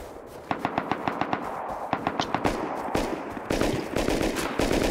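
Gunfire in a shooter video game raid: a fast string of loud, sharp automatic shots, then denser overlapping bursts over a noisy background.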